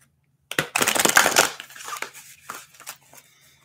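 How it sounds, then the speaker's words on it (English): A deck of spirit animal oracle cards is shuffled by hand, giving a close, dry rustling and riffling that lasts about three seconds before tapering off. "So I'm going to shuffle these and I'll pull some cards."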